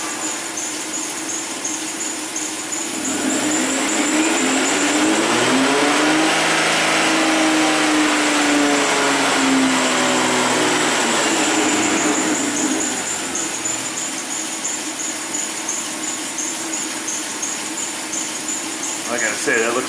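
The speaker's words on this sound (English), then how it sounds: "Let me go ahead and give it some throttle" A misfiring Hyundai Sonata engine revved under throttle, the pitch climbing to a sustained high whine and then falling back to idle, close and loud over a constant hiss.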